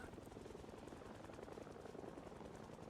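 A helicopter flies overhead in the Project Zomboid zombie survival game, a steady rhythmic rotor chop and engine drone filling the background evenly and faintly, with no talk over it.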